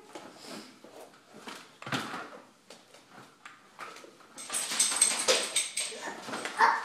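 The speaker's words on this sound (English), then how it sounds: "A dog." A dog whimpers and gives short yips and barks in a run of uneven bursts, close by. A person talks between the sounds, and the barking grows louder and more excited near the end.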